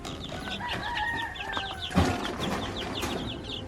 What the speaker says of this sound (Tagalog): Yan ho yung mga labuyo na sisiw